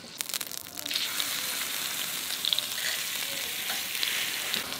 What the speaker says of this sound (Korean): 먹으면서 계속 굽자.